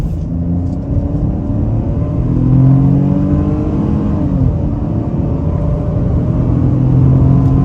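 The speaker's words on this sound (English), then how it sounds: "picks up speed really well for a 3-cylinder" A 2023 Ford Bronco Sport Big Bend with a 3-cylinder engine accelerates, its rumbling, buzzy note rising steadily through the revs from inside the cabin, loud and continuous with no talking.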